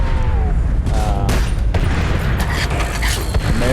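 Barrels being shot in Call of Duty Zombies on the Nacht Der Untoten map, a dense run of gunfire, booms and mechanical clatter that fills the whole stretch without a break.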